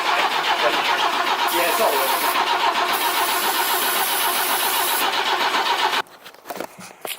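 A classic BMW E21 engine cranks steadily and loudly with the throttle held wide open but never catches, then the cranking stops abruptly and a brief voice follows.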